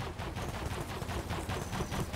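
A nail gun fires in the Roblox shooter Overheat, producing a rapid, evenly spaced stream of faint, muffled shots that runs steadily throughout with no talking.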